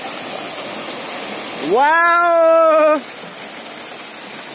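The Magar waterfall in Miklajung, Morang, pours with a steady, close hiss and roar, and one voice briefly exclaims in the middle over the rushing water.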